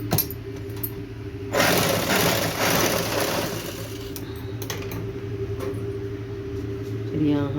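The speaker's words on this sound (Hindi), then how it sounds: "हर इंच पे सिलाई चला लेंगे।" A sewing machine stitches blouse fabric for a coat-collar, blazer-style blouse, its steady mechanical whir surging louder in bursts, with a person talking over it.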